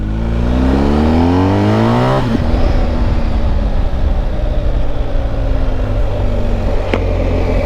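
A BMW R 1250 GS motorcycle engine revs up loud and close, pitch climbing quickly through the gears, then settles into a steady roar at speed with continuous wind rush.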